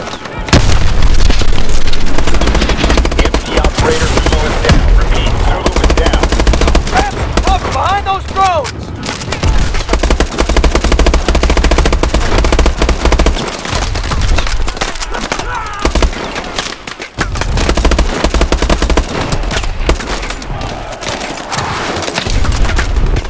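Gunfire and explosions in Call of Duty: Advanced Warfare, mission Fission: loud continuous bursts of automatic fire and heavy booms filling the whole stretch, with shouted voices mixed in briefly.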